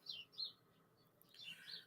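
Faint, high chirping of small birds outdoors on the first day of spring, a few short bursts separated by a quiet gap, with no talking heard.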